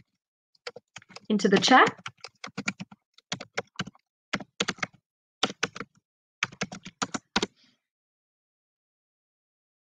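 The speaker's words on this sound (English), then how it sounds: "let me see if I can type it" Quick tapping on a computer keyboard, clusters of sharp close key clicks in short bursts with brief pauses, during an online lesson with a voice speaking briefly over the first taps.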